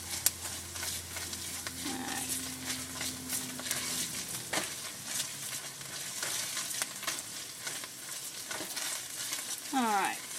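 Tomato paste for enchilada sauce cooks in a pan with a soft sizzle and occasional stirring scrapes. It is quiet and close, and a faint voice is briefly heard near the end.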